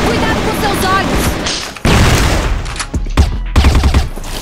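Gunfire in the online shooter CrossFire, with bursts of shots and booming impacts during a match, heard under continuous player chatter.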